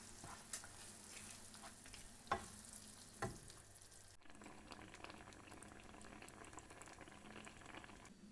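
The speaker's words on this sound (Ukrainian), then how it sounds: "Доводимо до кипіння і через 2 хвилинки відставляємо з вогню." A pot simmers quietly, with a soft bubbling hiss and a few clinks of a utensil against the pot.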